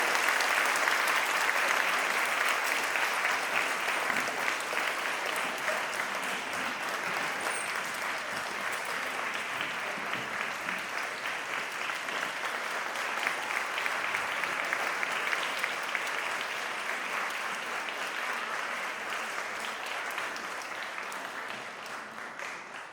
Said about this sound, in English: let's give a huge round of applause to this fantastic team